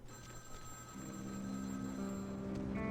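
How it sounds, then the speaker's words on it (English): Telephone ringing in Vampire: The Masquerade - Bloodlines, a steady electronic tone held throughout at moderate level, with a low hum and background game ambience beneath it and no talk. "there's the phone ringing over at the red spot"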